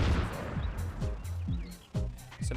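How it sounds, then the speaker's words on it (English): A missile fires in the Buck Bumble video game, heard as several short booming blasts with descending whooshes, spaced at irregular intervals over game sound. "Fires the missile."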